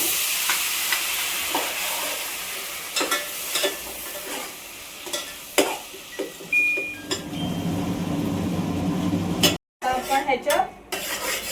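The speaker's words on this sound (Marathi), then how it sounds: "बघा आलं लसूणची पेस्ट टाकते" Ginger-garlic paste with chillies goes into a pan for pav bhaji: spoon clinks and scrapes against the pan, then a steady low sizzle builds, with a short break and more clatter near the end.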